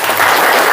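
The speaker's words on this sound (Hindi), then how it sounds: "अब बजाओ ताली।" An audience at a meditation talk bursts into a brief, dense round of hand clapping, loud and close, lasting under a second with no voices.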